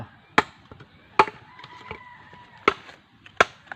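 Sharp wooden chops from cutting firewood at a rural farmstead, five loud strikes spaced irregularly, with a rooster crowing faintly in the background between blows.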